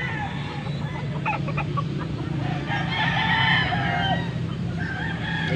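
A Boston Roundhead gamecock rooster crows loudly amid clucking and other fowl noises in a busy outdoor poultry setting, over a steady background murmur.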